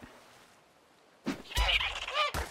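A dodo in the survival game ARK lets out a burst of loud, clucking, gobbling squawks after a quiet stretch, with several rapid calls close by.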